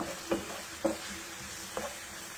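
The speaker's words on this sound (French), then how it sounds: "Fini de découper les oignons, je vais ajouter l'huile d'olive pour les faire frire" Onions fry quietly in olive oil in a pan under a soft, steady sizzle, broken by three distinct scrapes of a spoon stirring them, with no voices.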